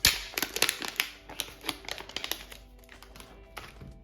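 A knife slices through a spread-covered wrap on a board, making a quick run of sharp, close taps and knocks that thin out toward the end.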